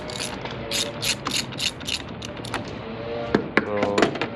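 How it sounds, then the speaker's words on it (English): A 10mm socket on a ratchet handle loosens the negative battery terminal on a Hyundai Sonata, giving a run of close, crisp ratchet clicks in quick bursts with a few metallic knocks toward the end. "get a 10mm on a ratchet handle"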